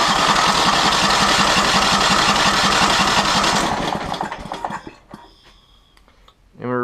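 A Terramite backhoe engine with choke and throttle fully open runs loud and close with a rapid, rough throbbing, then cuts out and dies away into quiet, with a short tonal squeak near the end.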